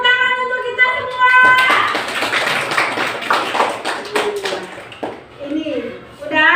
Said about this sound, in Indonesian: Ayo kasih tepuk tangan untuk kita semua.